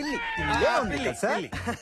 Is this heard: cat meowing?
yes